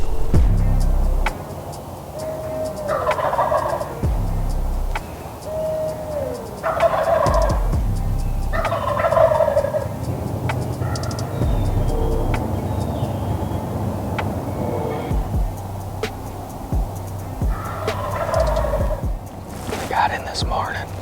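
Wild turkeys gobbling on the roost at dawn in Wisconsin during turkey season, several distant rolling gobbles repeating every few seconds over a low rumble of background noise.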